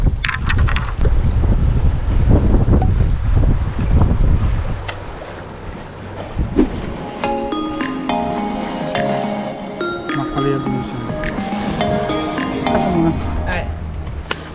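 Strong wind buffets the microphone on a coastal fishing spot near a bridge, with gusty rumbling in the first few seconds, then softer wind beneath scattered clicks and faint tonal sounds.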